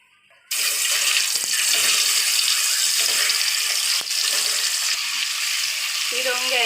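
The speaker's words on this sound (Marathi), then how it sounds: "आता याच्यामध्ये अंडे फ्राय करून घेणार याला हळद मीठ आणि थोडंसं लाल मिरची पावडर टाकलेली आहे" Boiled eggs coated in turmeric, salt and chili powder fry in hot oil for an egg dum biryani, a loud steady sizzle starting abruptly after a brief quiet moment and running unbroken to the end, with a faint clink near the close.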